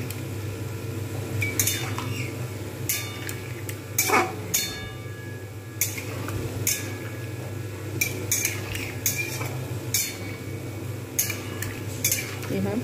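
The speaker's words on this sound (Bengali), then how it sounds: "খুব ভালোভাবে আমি কিন্তু এগুলো খুন্তি দিয়েই মিক্স করে নিয়েছি।" A metal spatula scrapes and clinks against a pan while a cauliflower mixture is mixed, giving irregular sharp metallic taps over a steady low hum, with no talking.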